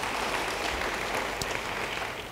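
A crowd applauds steadily, dense clapping filling the whole stretch before easing slightly at the end.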